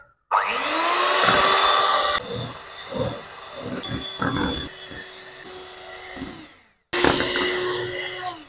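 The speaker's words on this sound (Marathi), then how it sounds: "तर आता याला आपण बीट करून घेऊयात।" An electric beater whips cream for chocolate ice cream with a loud, steady motor whir. The pitch wavers as the beaters move through the bowl, the motor stops, and then a brief burst starts it again.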